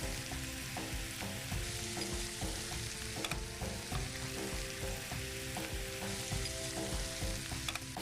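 Cut jackfruit bulbs fry in a pan for a Maharashtrian jackfruit bhaji, giving a steady, close sizzle with occasional stirring scrapes over about eight seconds and no talk.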